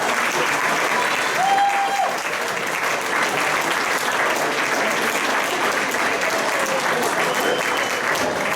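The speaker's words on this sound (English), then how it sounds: "Let's give them a round of applause." A large audience at a football hall of fame ceremony claps loudly and steadily for over eight seconds, with faint cheering and a brief whistle mixed in.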